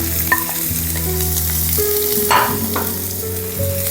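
Sliced onions sizzle and fry in hot oil with mustard seeds and curry leaves for a tomato fry, a steady close crackle broken by the scrape of stirring, with a faint tonal hum underneath and no talking.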